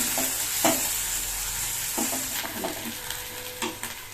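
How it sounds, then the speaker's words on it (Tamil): Ginger garlic paste with curry leaves, coriander and a little mint sautéing in a pan, a steady close sizzle with occasional stirring scrapes and knocks, no voices. "இஞ்சி பூண்டு விழுது நல்லா வதங்கிடுச்சு"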